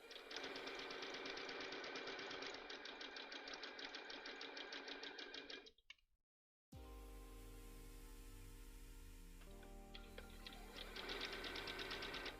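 Sewing machine stitching layers of a skirt, a fast, steady mechanical chatter of needle strokes running close and loud, cutting off briefly, then a low hum before the rapid stitching resumes.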